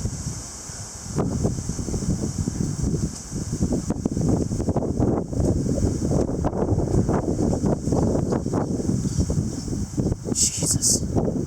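Strong gusty wind during a June windstorm in Kelowna, BC, roars and buffets the microphone in a continuous rough rumble, rising and falling in gusts throughout.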